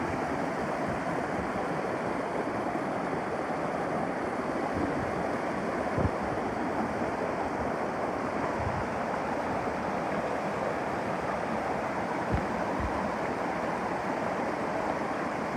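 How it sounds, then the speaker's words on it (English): Waterfalls and flowing water rush steadily and continuously throughout, a broad, even outdoor roar with no voices. "You start to see the waterfalls and a lot more water."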